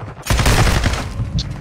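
Light machine gun fire in a video game, a loud rapid burst of shots lasting over a second after a brief quiet start.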